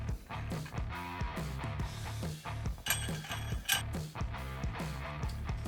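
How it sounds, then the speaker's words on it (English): Decorative metal nut threaded by hand onto a fire pit burner fitting, giving a steady run of small ratcheting clicks and creaks close up, with no talking. "Then we're gonna take one of these decorative nuts, thread that on."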